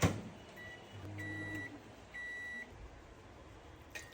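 A microwave oven heating pitted dates in a little water, giving three short electronic beeps spaced about half a second apart over a faint hum, close and clear, no voices.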